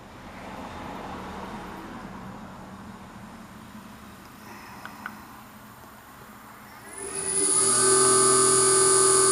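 An engine idles with a low rumble, then revs up sharply into a loud, high-pitched whine that holds steady to the end.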